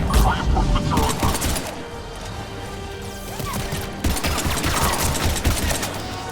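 Rapid gunfire bursts and crashing impacts during an attack on a pod in the video game Mass Effect 3, dense and continuous, with radio-style voices talking over the combat.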